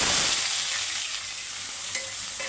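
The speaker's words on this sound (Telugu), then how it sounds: "బాగా కలర్ వచ్చిన దాకా వేయించుకోవాలండి" Chopped onions sizzle steadily in hot oil in a pan with a few cloves, a constant bright frying hiss with no voices.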